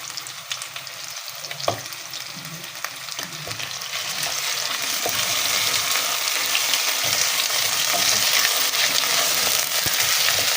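Garlic-ginger paste hits hot mustard oil in a pan of chicken curry, a steady close sizzle and frying hiss that swells louder through the second half, with occasional stirring clinks and no talk.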